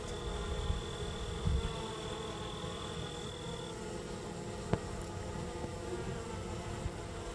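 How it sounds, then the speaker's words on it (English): Honeybees buzz calmly at an open backyard hive, a steady dense drone with a brief high whine fading partway through and one sharp tap near the end. "the bees sound really calm"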